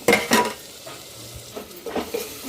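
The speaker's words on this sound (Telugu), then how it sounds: "మసాలా తేగిందా లేదా చూద్దాము" Masala frying and being stirred in a pan, with a couple of loud scraping strokes at first, then a soft sizzle and further scrapes and clinks of the spoon against the pan.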